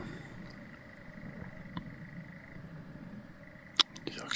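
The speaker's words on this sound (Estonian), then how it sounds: "Selline vahva öösorri jõring käib." A European nightjar churrs at night over a bog, a steady, unbroken mechanical trill held at low volume throughout, with a few faint clicks and a brief sharper noise near the end.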